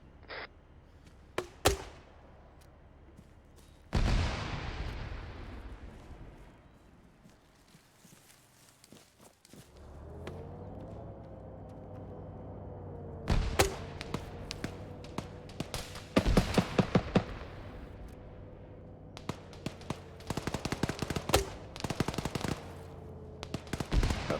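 Gunfire in a military video game squad training session: scattered single shots and short loud bursts over a steady engine drone, with quieter gaps and some footstep-like thuds.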